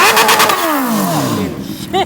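A motorcycle engine close by is revved hard, its pitch sweeping down as the revs fall away, with another short blip at the end and people talking over it.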